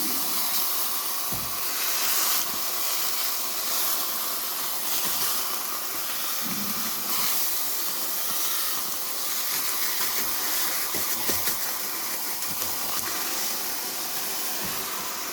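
A flattened sausage sizzles on a hot griddle, a loud, continuous hissing spatter that stays steady throughout with a few soft scraping taps, and no talking.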